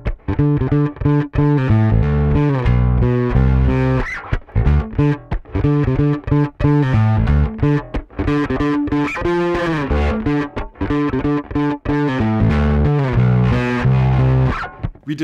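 Bass guitar through a Walrus Audio Badwater bass drive pedal, a Billy Sheehan signature bass with high output, playing a gritty, distorted riff of punchy notes and slides, loud and close.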